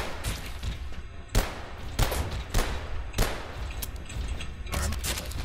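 Rapid gunfire from a recoil-heavy weapon in the video game Abiotic Factor, loud and near, with bursts of shots and sharp individual cracks every second or so over a dense, continuous battle din.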